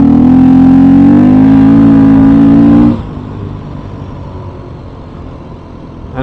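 A 2021 Beta 500 RRS motorcycle engine pulls hard on a road, its loud rising whine climbing for about three seconds before cutting off abruptly into a much quieter idle-like drone.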